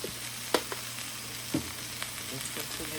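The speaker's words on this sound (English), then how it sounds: "Let's continue to stir because we don't want anything to stick." Spices including garlic powder and cumin fry in a pan with a soft steady sizzle, while a utensil stirs with a couple of distinct scraping knocks against the pan; no voices.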